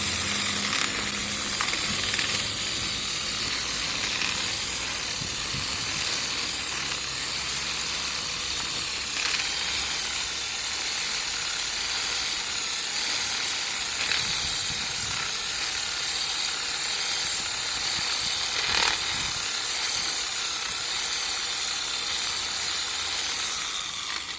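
Homemade putty mixer, an iron rod welded to an M14 nut on a power tool, whirs steadily and loudly while stirring plastic filler putty, with a constant rough mechanical drone throughout and no talking.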